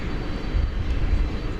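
A continuous low jet rumble comes from an Alaska Airlines Boeing 737-900 in oneworld livery at DFW Airport, steady and fairly close, with no talk over it.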